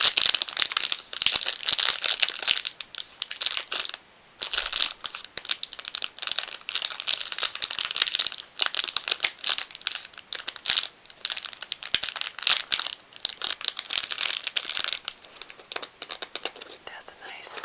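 Rock candy wrapper, paper bag and tissue paper crinkled and crumpled close up, a continuous dense crackle with brief pauses, under soft whispering.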